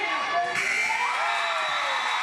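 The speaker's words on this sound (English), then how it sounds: "The crowd exploded." Loud crowd cheering in a gym after a buzzer-beater three-point shot at a varsity basketball game, a sustained roar of shouts and whoops that fills the whole moment.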